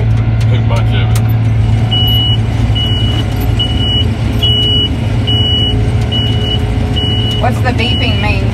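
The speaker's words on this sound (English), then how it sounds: "if I go too fast, it overloads the combine, it beeps" Steady high-pitched overload warning beeps from a combine harvester repeat in a regular rhythm over the constant drone of its engine.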